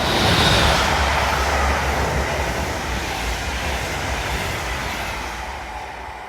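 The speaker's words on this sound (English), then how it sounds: "Here is a BR-146 hauling a metronome." A BR-146 locomotive hauls a Metronom passenger train past at Ashausen, a loud continuous rushing roar of wheels and air that fades slightly toward the end.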